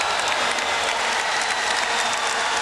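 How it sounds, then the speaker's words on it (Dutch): A crowd in a judo arena at the world championships cheers and applauds loudly and steadily after a German judoka's bronze medal win, a dense wash of clapping and shouts. "Je hoort het gejuich."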